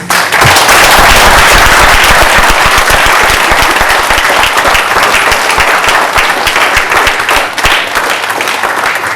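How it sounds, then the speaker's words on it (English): Loud, dense applause fills a graduation hall in honour of the mentors, a continuous roar of many hands clapping that stays steady throughout. "please give them a round of applause"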